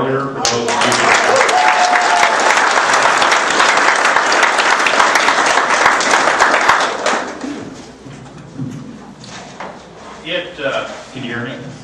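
A crowd at a Tea Party political event in Madison, Indiana claps loudly in sustained applause for several seconds, then it fades out as a voice begins speaking.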